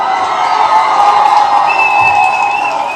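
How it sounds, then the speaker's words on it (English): A morning audience responds with crowd noise and cheering, a loud, sustained blend of voices and some clapping with a few higher shouts rising through. "I want to give you all a round of applause."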